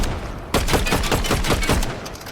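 Rapid bursts of automatic gunfire in the Fortnite Zero Build video game, loud and close, starting abruptly after a brief lull and continuing in a fast, steady rhythm.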